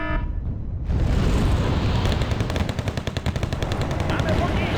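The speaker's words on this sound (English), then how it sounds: "Recoilless rifle plus the OT-64 fires on that." A recoilless rifle and an OT-64 armored carrier open fire in the Wargame Red Dragon strategy game: loud, dense, continuous rattling gunfire with booming blasts filling the whole stretch.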